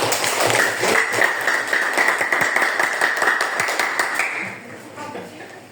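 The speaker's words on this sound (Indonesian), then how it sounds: "Tepuk tangan lagi" A classroom audience at a vocational high school claps for a student group's presentation, a dense, steady burst of many hands lasting several seconds, with a voice speaking over it before the clapping thins out near the end.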